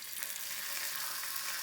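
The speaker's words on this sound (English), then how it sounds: "Next, we're going to put in some bacon." Bacon sizzles in a hot fry pan, a dense, bright hiss of frying fat that stays steady and close for the whole short stretch, with no voices.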